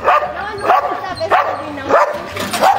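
A Husky barks repeatedly and loudly nearby, about five sharp barks in an even rhythm, with faint voices in the background.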